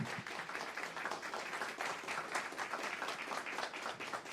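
Audience applause at a talk event: a dense, steady wash of many hands clapping, fairly even and sustained throughout with no voices over it.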